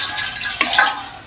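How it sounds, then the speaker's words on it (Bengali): A small amount of water poured into a kadai on the stove while making rice naru sweets: a short, close trickling splash that swells briefly and then tapers off, with no talk. "তো এখানে আমি অল্প করে পানি দিয়ে দিচ্ছি,"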